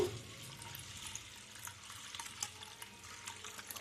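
Water poured from a tap onto washed mung and masoor lentils in a kitchen, a faint, steady splashing trickle running continuously for a few seconds.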